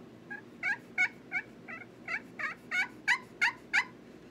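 A turkey pot call played with a homemade striker yelps in a steady run of about a dozen notes, clear and close, growing slightly louder toward the end.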